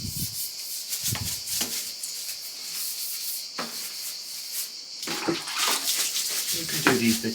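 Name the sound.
water soaking down a bicycle frame during cleaning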